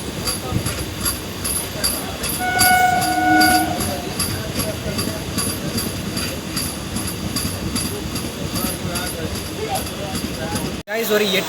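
A Madurai–Chennai MEMU special passenger train runs with a steady rumble and wheel clatter, and a horn sounds briefly near the start, ending in a sharp cutoff.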